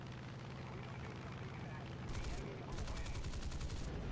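An F8F-1B Bearcat fighter fires its machine guns in War Thunder, with long rapid bursts of gunfire that grow louder and denser in the second half over a continuous engine drone.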